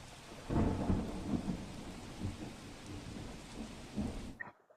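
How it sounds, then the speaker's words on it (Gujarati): Heavy monsoon rain and thunder over Porbandar district in Gujarat: deep rolling rumbles swell and fade over a constant wash of rain, then cut off abruptly at the end. "પોરબંદર જિલ્લામાં સવારથી જ જે વરસાદી વાતાવરણ છે તે જોવા મળી રહ્યું છે"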